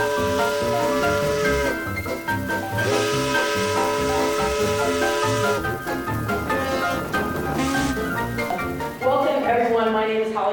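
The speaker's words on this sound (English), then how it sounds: "Steamboat, blow your whistle again." Steamboat steam whistle sounding in long sustained multi-tone blasts, broken by short gaps and hissing steam, with voices or singing mixed underneath.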